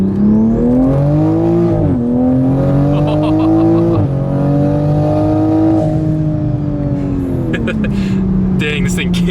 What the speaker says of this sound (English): The blow-off valve sounds cool.